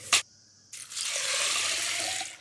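Tap water runs steadily into a bowl of sago pearls for soaking, a close continuous splashing flow after a brief knock and a quiet pause.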